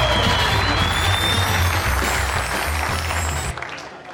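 A live audience claps and cheers as a comedian is welcomed onto the stage, dense sustained applause that tapers slightly toward the end.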